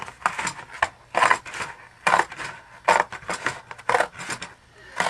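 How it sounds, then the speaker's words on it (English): Scissors roughly cutting paper in a craft session, a series of short crisp snips in irregular bursts, close and fairly quiet. "Now you can use your scissors"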